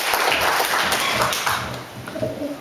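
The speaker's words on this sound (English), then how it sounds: "Clap, clap, clap, clap, clap, clap, clap." Wedding guests clapping in a reception room, a dense, steady patter of many hands with some murmuring voices mixed in, fairly close and loud before easing off slightly toward the end.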